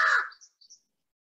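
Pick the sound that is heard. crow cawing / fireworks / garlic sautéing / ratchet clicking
crow cawing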